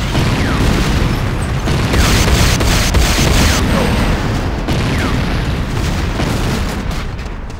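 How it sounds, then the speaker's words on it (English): Booming explosions of an enemy structure in the Command & Conquer strategy game, loud dense repeated blasts and rumbling crashes continuing throughout. "Enemy structure destroyed."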